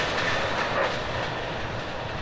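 Amtrak Train 91, the southbound Silver Star, rolls past near Folkston, Georgia, a loud, steady rumble of rail cars with faint clickety-clack running throughout, no voices.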